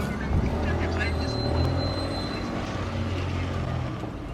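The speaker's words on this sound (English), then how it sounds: "We are just driving to IKEA right now" Steady rumble of a car driving along the road to IKEA, a continuous low engine and road roar that fills the whole stretch without letup, with faint voices mixed in beneath.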